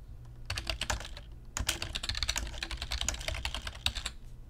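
Fingers type on a computer keyboard, a close run of rapid clicking keystrokes in bursts with a brief pause near the start.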